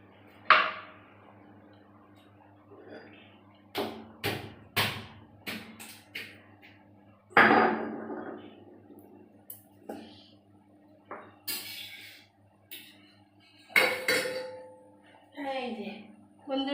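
A bhola fish head is broken up in a cooking pot, making a series of sharp, irregular clanks and knocks of a utensil against metal, with people talking in between.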